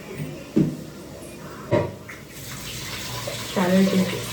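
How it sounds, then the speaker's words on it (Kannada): Water bubbling as it boils in a cooking pot, in a home kitchen before rice goes in. Irregular loud gurgling bursts rise over a steady watery hiss, close by, with faint speech-like sounds. "ಇಲ್ಲಿ ನೀರು ಕುದಿಯಾಕತ್ತೈತಿ."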